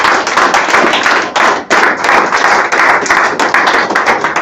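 A crowd claps loudly and steadily, a dense wash of applause with a brief dip partway through before it swells again.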